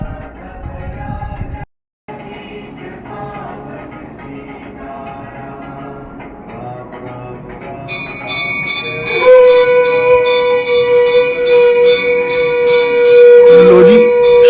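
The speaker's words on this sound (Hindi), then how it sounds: "शंखनाद बज गया है और घंटा बज गया है" A conch shell blast and a large temple bell ringing, heard as a sustained bright tone that swells and holds over steady rhythmic bell strikes, growing loud toward the end.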